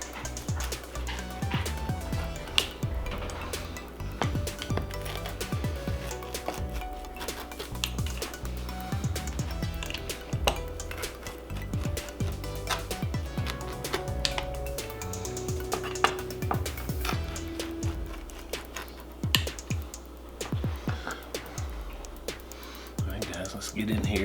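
Cauliflower pizza crust is cut with repeated scraping and crunching strokes against a surface, irregular and close, with soft clicks and knocks spread throughout and low background murmur.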